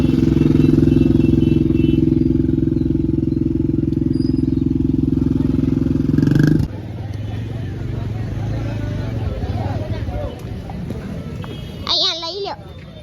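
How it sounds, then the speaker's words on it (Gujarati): A loud motor engine idles and drones nearby in heavy hill-station traffic, then cuts off, leaving a busy street murmur of vehicles and voices with a brief horn-like tone. "ગાઈસ ટ્રાફિક બહુ છે."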